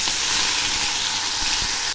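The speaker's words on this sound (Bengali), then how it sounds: "এবার আমি এর মধ্যে লবণ হলুদ মাখা একটা মাছের মুড়ো ছেড়ে" Turmeric- and salt-rubbed fish head sizzling in hot oil: a loud, steady, hissing spray close by that cuts off at the end, with no voices.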